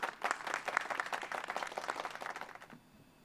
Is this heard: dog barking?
no